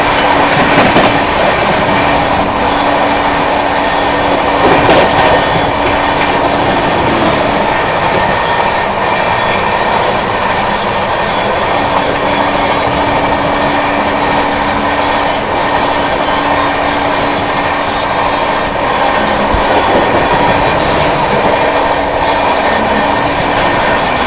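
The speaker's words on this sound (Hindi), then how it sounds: "गुड्स ट्रेन के साथ पैरेलल।" A passenger express train runs alongside a goods train in Bihar, India, its steady loud rumble and rail clatter continuing throughout with faint wheel squeals and no talk.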